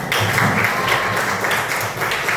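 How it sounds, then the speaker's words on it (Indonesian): A third-grade elementary class applauds a classmate during a math lesson, a brisk, close burst of many small hands clapping steadily without pause. "Tepuk tangan buat Junjun."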